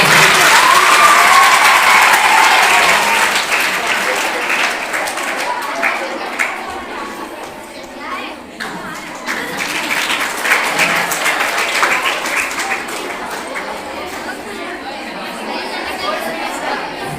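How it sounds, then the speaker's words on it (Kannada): Loud applause from a school audience welcoming guests, dense clapping and crowd chatter that swells at first, dips midway, then picks up again with scattered claps and voices. "ಜೋರಾದ ಚಪ್ಪಾಳೆ ಬರಬೇಕು"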